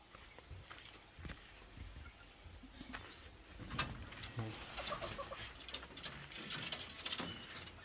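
Labuyo chickens clucking and cooing in a backyard coop, scattered soft calls rising and growing busier toward the end, with a faint outdoor hum underneath.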